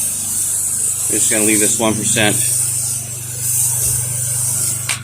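Pressure washer spray rinsing the side of a house, a steady loud hiss over a low pump hum throughout, with someone talking briefly over it.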